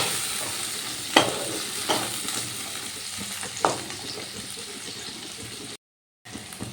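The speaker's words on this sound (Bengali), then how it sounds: "এবার টমেটোটা ভালো করে পেঁয়াজের সঙ্গে ভেজে নেবো" Chopped tomato and onion fry together in a pan for a pomfret recipe, giving a steady close sizzle with a few sharp stirring scrapes and a brief dropout near the end.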